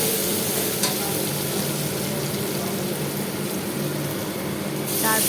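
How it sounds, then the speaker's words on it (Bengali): Spiced potatoes with turmeric sizzle steadily in a hot pan, a dense continuous frying hiss with faint scraping of stirring throughout. "এবার শুধু ভালো করে এটাকে ভাজার পালা"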